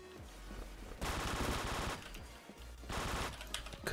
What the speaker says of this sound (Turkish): Silah vuruyor şu an.